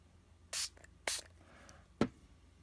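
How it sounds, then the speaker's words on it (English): Three short hissing sprays of water from a spray bottle onto a watercolor painting, spaced apart, close and crisp against a quiet background. "Spray bottle. So I'm going to spray it"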